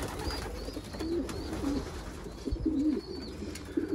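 Several pigeons in a breeding loft coo softly and repeatedly, their low throaty calls overlapping against a steady background hum.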